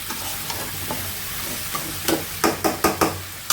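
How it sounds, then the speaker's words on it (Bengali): Curry pieces being sautéed in spiced oil in a pan: a steady sizzle, then a run of four or five sharp, evenly spaced spatula scrapes toward the end, loud and close. "এই যে মশলা থেকে তেল বের হয়ে আসছে, আমি দিয়ে দিচ্ছি তরকারি। এখন কষানো হবে।"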